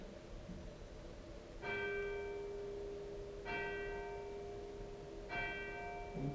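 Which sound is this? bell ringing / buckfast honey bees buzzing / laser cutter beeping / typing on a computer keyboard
bell ringing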